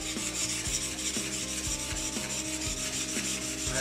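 GROZ hand plane blade drawn across a grindstone in quick passes, giving a continuous close gritty rubbing with a steady rhythmic stroke pattern under a constant background hum.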